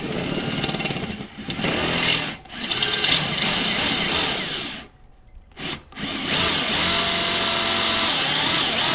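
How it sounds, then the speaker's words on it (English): A power drill whines as it bores into wood in several bursts, pausing briefly between holes before running steadily again. "If I drill some bigger holes, they can sit in like that."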